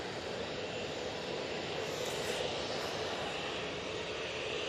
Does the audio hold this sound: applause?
no